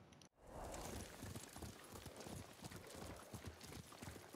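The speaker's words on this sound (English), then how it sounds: "What a good horse." Hooves clip-clop steadily from a horse trotting in Ghost of Tsushima, a dense, continuous patter of close hoofbeats running through the whole stretch after a brief dropout at the start.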